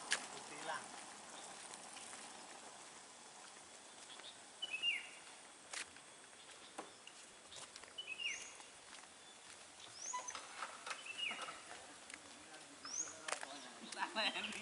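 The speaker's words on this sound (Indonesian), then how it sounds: "kita mendengar suara burung" Birds chirp and call faintly in scattered short bursts around Jambeyan village, with quiet rustling and a low background hush and no other loud sounds.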